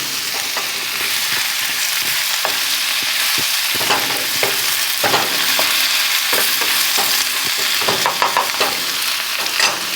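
Chicken and pig feet stir-fry in a hot wok with a loud, constant sizzle. Scrapes and clacks from stirring recur throughout at close range, and no one speaks.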